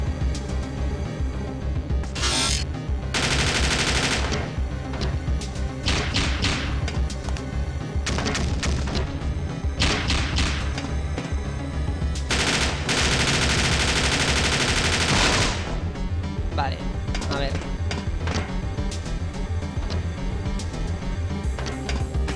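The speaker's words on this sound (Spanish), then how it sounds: "vamos a probar ya de paso este arma" Heavy, sustained fire from a weapon in Parasite Eve 2, long loud bursts of rapid shots with booming blasts, broken by short pauses and continuing throughout.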